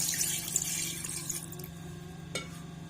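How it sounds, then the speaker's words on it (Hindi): About one liter of water splashes and pours steadily into a cooking pot for aloo gosht, fading slightly over a few seconds, with a faint clink near the end. "ऐसे 1 लीटर इसके अंदर पानी ऐड किया"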